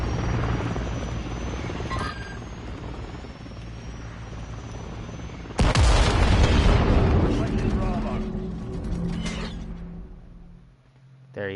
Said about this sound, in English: that helicopter's loud as fuck